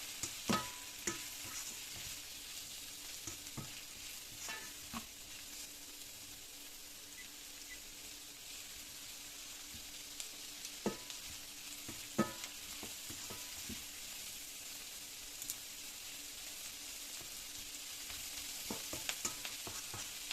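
Bread poha with carrot, boiled egg, Kashmiri red chili powder and salt frying in a pan, a soft continuous sizzle broken by scattered scraping stirs and light clicks of the spoon, close by.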